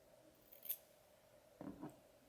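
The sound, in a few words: scissors cutting ends of curly hair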